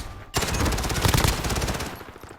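Gunfire from a competitive 5v5 shooter video game match: after a brief quiet moment, a loud, rapid burst of automatic shots rattles on steadily for about two seconds.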